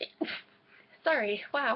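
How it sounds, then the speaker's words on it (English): A woman's sneeze bursts out near the start, a short, sharp and close sound, followed by her speaking in a surprised, apologetic tone. "that was a sneeze"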